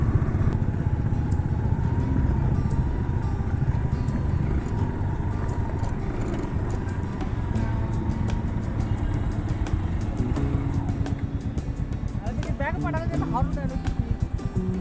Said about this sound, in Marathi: थोडी ट्रॅफिक झालीच आहे यार